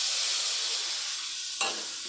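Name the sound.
spices frying in a pan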